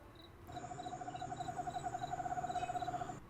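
A voice imitates a screech owl, a quick fluttering trill sustained for a few seconds over soft chirping insects.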